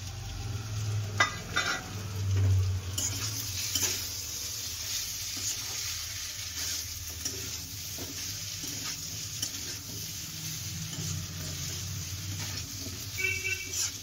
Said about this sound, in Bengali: চিংড়ি মাছ দিয়ে দিল, দিয়ে এবার ভালো করে কষে নেবে